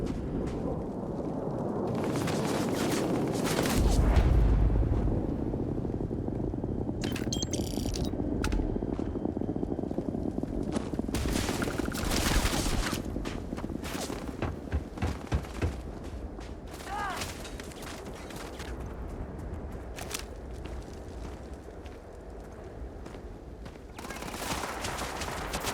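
Gunfire from a character shooting in Starfield, rapid bursts of shots and mechanical clatter spread across the scene, with someone talking over the action.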